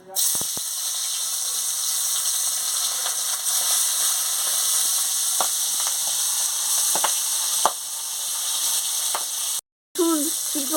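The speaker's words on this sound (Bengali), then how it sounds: "এবার তেল গরম হয়ে গেছে মাছ ছেড়ে দিচ্ছি" Singi fish dropped into hot oil in a pan, a strong continuous sizzle and hiss with scattered pops and crackles, briefly cut out near the end; a voice is faintly heard in the background.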